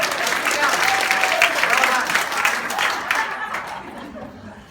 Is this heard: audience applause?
yes